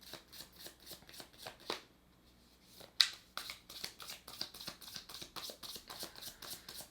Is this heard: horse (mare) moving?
no